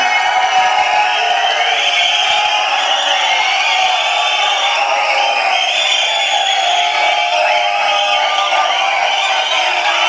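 Audience at the Garudan film audio launch roars and cheers for actor Soori, a dense, continuous wall of crowd noise with whoops and shouts, loud and unbroken throughout.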